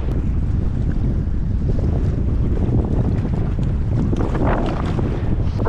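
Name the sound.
strong wind on the water while kayak fishing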